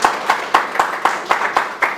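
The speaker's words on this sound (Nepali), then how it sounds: "उहाँलाई कृपया जोरदार तालीले सम्मान" Clapping rings out in a hall to honour a guest, coming as a steady series of about eight sharp, evenly spaced claps. The claps are close and fairly loud, and no one speaks.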